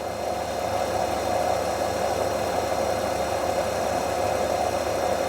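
A BMW X5 with a crank-no-start fault cranking steadily, an even continuous mechanical drone with no pauses, close and moderately loud, no voices.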